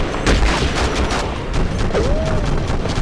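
Gunfire in the war video game Conflict Desert Storm 2, sustained rattling bursts of shots over a dense battle din, with a brief whistling tone partway through.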